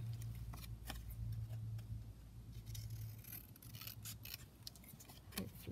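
Scissors snip into the border of a paper foldout booklet, a series of quiet, crisp cuts at irregular intervals over a faint background hum, close up and without speech.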